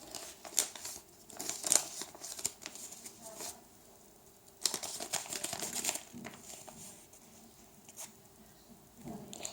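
A handmade paper surprise package being torn and unfolded, with intermittent crinkling, rustling and tearing bursts separated by quiet pauses, close and fairly soft.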